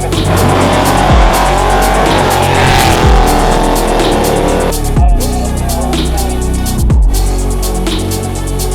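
A drag racing car roars at Barona Drag Strip, engine blaring loud and close for the whole stretch, with sharp gear-shift breaks and pitch drops as it launches and pulls away down the track.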